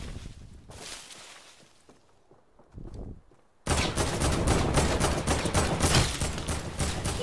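Rapid gunfire bursts in a first-person shooter video game, loud and sustained for the second half after quieter clatter and faint game sounds earlier; no one speaks.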